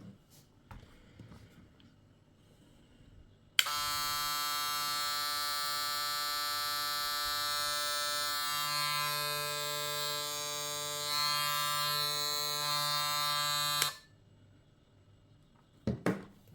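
A Kemei KM 1767 hair clipper starts abruptly, close by, and runs with a loud steady buzz for about ten seconds. It then cuts off, leaving quiet room sound on either side.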